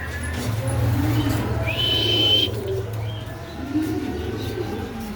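Female white Baghdadi pigeons coo at a home pigeon farm: low, steady, close cooing that runs through the whole stretch, with a short higher-pitched bird call partway through.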